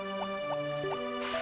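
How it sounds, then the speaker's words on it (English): Watering crops in the Harvest Moon video game, where several quick rising splash tones fall in a steady rhythm over a sustained musical soundtrack and end with a brighter final spray. "Let me throw some more water on the crops to help the sprites"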